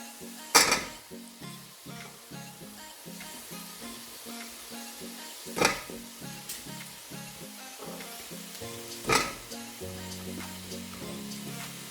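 Gnocchi drop into a hot pan with a moderate sizzle, punctuated by several sharp clanks of a utensil against the pan, with gentle music in the background.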